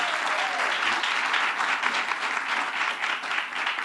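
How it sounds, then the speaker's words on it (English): A large crowd at a political announcement on a minimum wage increase applauds steadily, dense sustained clapping filling the room without pause for several seconds. "Let's give him a round of applause."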